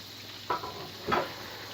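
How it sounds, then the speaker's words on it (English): Catfish fillets fry in a pan with a faint, steady sizzle, broken by two brief clatters from handling nearby. "The fish is cooking and it won't take long."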